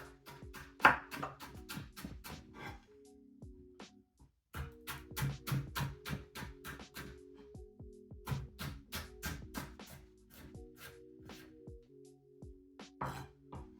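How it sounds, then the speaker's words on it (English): A knife slicing through food on a wooden chopping board, a rapid run of crisp taps and cuts, then a brief pause before another steady series of close, clear chops. "all I'm going to do is slice through it"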